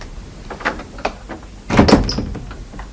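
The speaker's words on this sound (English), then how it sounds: "Shut the door." A door is swung shut in a comedy scene, a few light knocks and rattles building to a firm thump and clatter close by.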